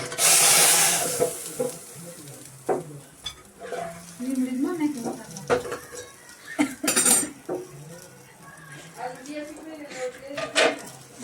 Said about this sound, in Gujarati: નાખી દઈએ દાળમાં વઘાર.